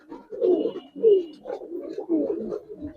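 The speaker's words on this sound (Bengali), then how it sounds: "বাঘা কবুতর এটি।" Bagha pigeon cooing close by in three low, rolling phrases, each swelling and fading within about a second, with no talk over it.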